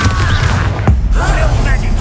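A Bombarda explosion spell goes off in Hogwarts Legacy as a single sharp boom near the middle, surrounded by dense game effects and combat noise.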